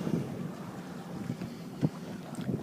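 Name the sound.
sailboat tacking in wind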